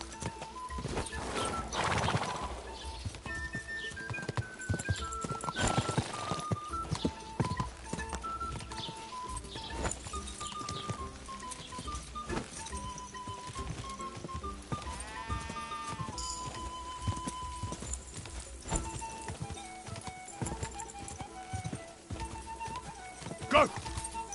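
Horse hooves gallop in a steady clip-clop in the video game Kingdom Come Deliverance 2. The hoofbeats run under music and game sounds, with bleating animals and a voice shouting now and then.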